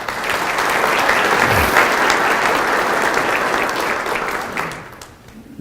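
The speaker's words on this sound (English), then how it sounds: "let's give an applause for Amy" Audience applause at a city State of the City address fills the room with steady, dense clapping, holding loud for about four seconds before tapering off near the end.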